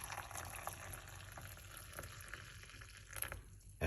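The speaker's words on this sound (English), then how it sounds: "I'm just gonna simply pour it from the pot" Rosemary and clove liquid pours unstrained from a pot in a steady, soft splashing trickle that continues for several seconds, fairly quiet and close.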